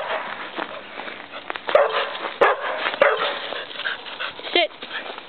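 A dog on a goat-keeping homestead gives a handful of short, sharp yips and barks at moderate volume over a steady outdoor background, with a faint voice now and then.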